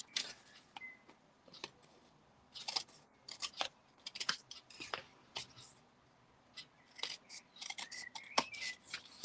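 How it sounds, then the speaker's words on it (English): Scissors trimming overhanging card stock while making a handmade card, a series of short, crisp snips in irregular bursts, close up and fairly quiet. "So I'm going to just trim those off."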